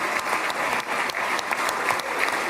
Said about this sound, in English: Wow, a lot of applause.